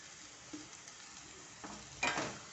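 A spatula stirs green egg bhurji with coriander in a pan, with faint light scrapes and a soft sizzle and one louder stir near the end.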